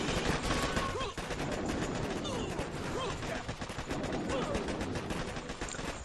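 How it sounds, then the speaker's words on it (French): Machine gun turret in the mobile strategy game Boom Beach, firing rapid sustained bursts amid dense battle noise, loud and continuous across the whole stretch. "La mitrailleuse qui fait le taf de l'autre côté."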